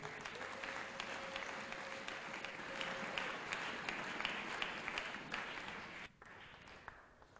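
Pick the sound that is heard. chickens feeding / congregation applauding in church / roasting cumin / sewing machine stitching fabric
congregation applauding in church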